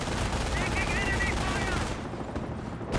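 Base machine gun emplacement firing in the Company of Heroes game, a dense continuous rattle of gunfire under a busy battle din, thinning out near the end.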